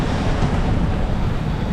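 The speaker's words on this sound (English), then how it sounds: "beating against the waves and upwind in 28 knots," A sailboat beats upwind against waves in 28-knot gusting wind while sailing to safety from Cyclone Mal in Fiji; a steady, close roar of wind and rushing water fills the whole stretch with no voices.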